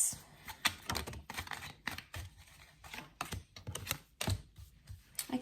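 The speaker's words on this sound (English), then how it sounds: "let's pull out a few" Tarot cards slide and snap as they are pulled from a deck, a series of quiet, irregular papery clicks and rustles up close with no voices.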